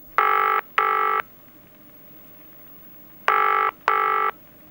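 Four DTMF telephone dialing tones entered for a BBC Telechess phone line, in two pairs of evenly spaced beeps separated by a pause, clear and alone over faint background hiss.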